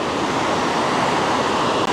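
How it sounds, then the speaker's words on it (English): Waterfalls run off a mountainside in the Austrian Alps: a steady, loud broadband rush of falling water, constant and close, with no voices. "there are all sorts of just waterfalls running off the side of the mountain"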